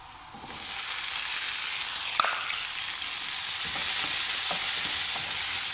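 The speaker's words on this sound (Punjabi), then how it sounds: "ਹੁਣ ਆਪਾਂ ਇਹਦੇ ਵਿੱਚ ਪਾਵਾਂਗੇ ਟਮਾਟਰ" Tomatoes go into a pot of boiling chicken for Omani chicken mekhfus, setting off a loud, continuous hiss and sizzle with a few soft stirring clinks.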